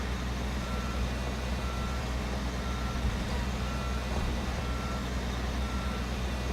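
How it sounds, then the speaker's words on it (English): Truck in Construction Simulator running at a steady engine drone, with a faint repeating reversing beep over a constant low rumble and no voices. "let's move the truck"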